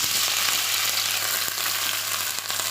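Chopped onion and green chili frying in hot oil, producing a loud, close, continuous sizzling hiss with faint stirring and no voices.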